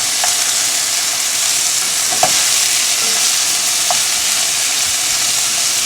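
Turkey sausage sizzling steadily in a pan for jambalaya, a loud, continuous close frying hiss with a few faint clinks of stirring and no talk.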